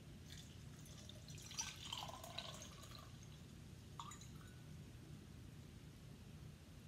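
Water poured onto gravel in a soil permeability lab test trickles and drips through steadily, faint and close, over a low background hum with no speech.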